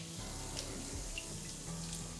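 A dash of water, around two tablespoons, is poured into an apple mixture with caster sugar, a soft, steady running trickle close by with no talking.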